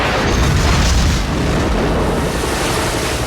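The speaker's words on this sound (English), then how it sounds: "The subs fire some torpedoes at him," A sustained, loud, rumbling roar of torpedo explosions from the 1998 Godzilla film fills the whole stretch, a dense booming wash with surging water and no clear separate blasts.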